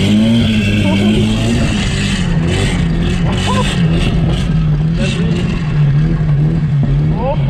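Nissan Silvia S15 drifting, its engine droning loud and steady throughout with wavering pitch and tyre noise, while voices talk over it.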